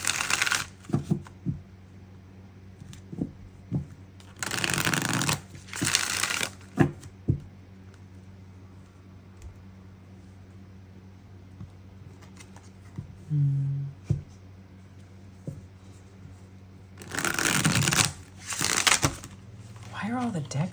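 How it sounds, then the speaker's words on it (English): Tarot cards being shuffled in several quick riffling bursts, close and crisp, separated by quiet gaps with faint background hum. "we're just going to quietly shuffle"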